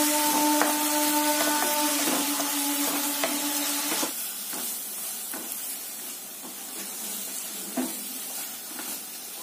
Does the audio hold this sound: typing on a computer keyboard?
no